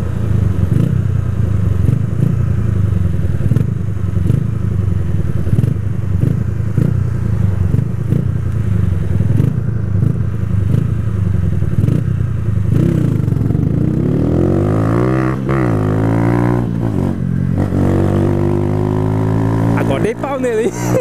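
A Honda CG 125 Fan motorcycle from 2008 rumbles loudly at close range while riding, its mid-pitched engine climbing in revs as it accelerates near the end, with someone talking over it.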